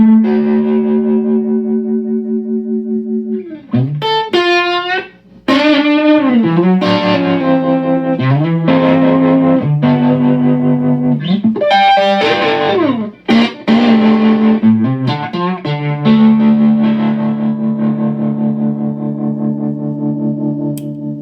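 Electric guitar with throbbing tremolo played through a Feather 5 pentode preamp, loud clean-toned sustained chords and bends pulsing in volume, with a few brief gaps between phrases.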